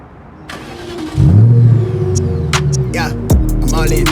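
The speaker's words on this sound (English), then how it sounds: "Let's start the car for the first time." A BMW E38 7 Series cranks and fires up with a sharp rise into a loud, steady idle, followed by a brief blip near the end, with faint background sounds over it.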